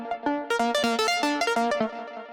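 Textured synth loop driven through a saturator with drive and a wave shaper, a bright, harmonically rich repeating pattern of quick plucked notes, loud and close, then a short decaying tail with no voices.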